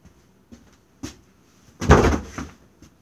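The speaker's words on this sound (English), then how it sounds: "I'm gonna jump into my door like that guy versus door video." A person throws their body into a bedroom door, producing a loud, broad thud-and-rattle impact lasting about half a second, preceded and followed by a few small knocks and bumps in an otherwise quiet room.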